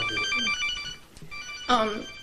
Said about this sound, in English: that's my phone, excuse me.